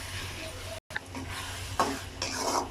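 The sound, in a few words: stirring tomatoes cooking in a pan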